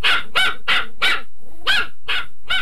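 A dog in an animated series barks sharply and rapidly, about seven loud, evenly spaced yaps close by with no voices over them.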